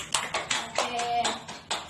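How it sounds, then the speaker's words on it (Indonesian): A handful of people in a classroom during a microteaching session clap in scattered bursts, fairly close but modest in volume, with a faint voice underneath. "Beri tepuk tangan lagi."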